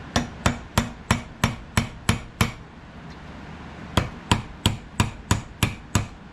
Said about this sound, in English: Now I'm not going to beat on this hard. I'm just going to tap.